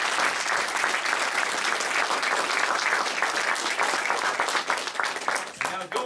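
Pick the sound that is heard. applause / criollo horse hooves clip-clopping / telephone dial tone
applause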